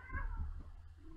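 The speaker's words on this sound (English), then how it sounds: "My cats were fighting, so I kind of had to break them up." Cats fighting, with a short, close, strained meow-like yowl that wavers for about a second over low background rumble.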